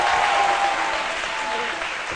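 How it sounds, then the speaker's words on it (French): Studio audience on a midday television show applauds in a thick, continuous burst of clapping, loud and steady for about two seconds without voices on top. "Applaudissez encore pour vous."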